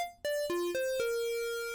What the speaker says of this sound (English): square wave,